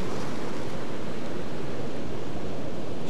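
Big ocean wave rolling in toward a lighthouse, a loud, steady rush of surf and wind with no voices.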